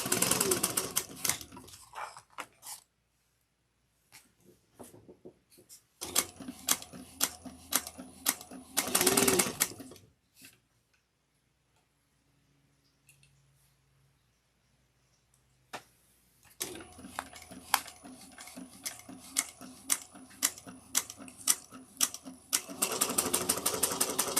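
Sewing machine backstitching seams on a handbag, heard as two bursts of rapid mechanical stitching separated by a quiet pause, steady and close.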